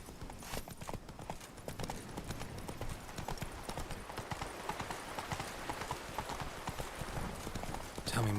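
Roach the horse's hooves clip-clopping in The Witcher 3, a steady rapid trot of hoofbeats under ambient game sound, with a brief heavier thump at the end.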